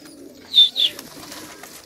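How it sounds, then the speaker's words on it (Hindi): Domestic pigeons kept for pigeon flying give two soft cooing calls close by over a quiet outdoor background, with no talking. "देख लो इनमें कैसे कैसे कबूतर हैं, साफ दिख रहे हैं"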